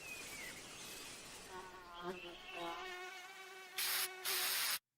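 A mosquito buzzes in a repellent advert, a thin high whine that drifts and wavers steadily over soft background sound before a burst of bright noise near the end.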